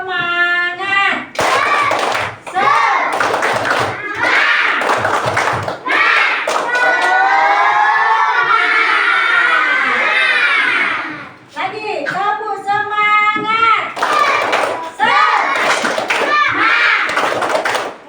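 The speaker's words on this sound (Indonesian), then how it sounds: "ayo kita yel-yel terlebih dahulu. Tepuk semangat." A classroom of young primary students chants and claps together in a spirit yell, rhythmic shouted voices and hand claps filling the room at close range, with an adult voice briefly speaking between bursts.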